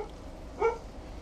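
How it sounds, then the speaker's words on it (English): A single short dog bark, fairly distant and muffled, heard once over a quiet indoor background. "Excuse my dogs, probably barking at the postie."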